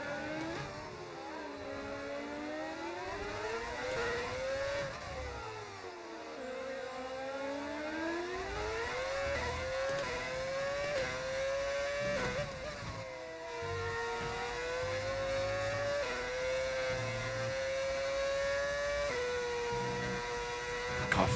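A Formula 1 racing car's engine in a video game drones steadily through a rainy qualifying lap at the Mexico circuit. Its pitch climbs and dips repeatedly as gears shift through the corners, continuous and moderately quiet with no talk over it.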